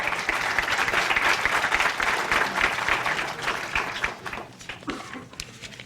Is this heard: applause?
yes